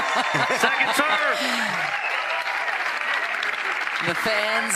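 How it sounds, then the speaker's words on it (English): Fans at a pickleball match clap steadily while someone commentator talks over the applause. "The fans clapping"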